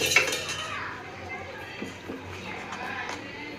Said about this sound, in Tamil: இப்போ மறுபடியும் நெய் ஊற்றி கிண்டிக்கலாம்.